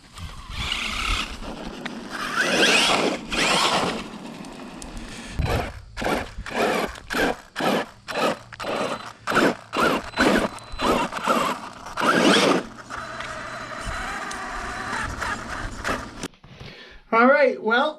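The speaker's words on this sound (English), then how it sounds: "it's definitely clicking and we finally got it to completely go out" Traxxas E-Revo RC car with a failing rear end, a rapid series of rhythmic mechanical clicks and ratcheting bursts while the drivetrain runs, loud and close, ending with brief sounds at the end.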